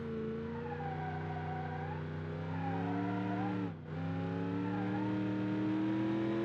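Racing car engine in a video game played with a SteelSeries Stratus XL controller, revving steadily with strong harmonic drone, pitch dipping briefly mid-way then climbing again, loud and continuous with no talk.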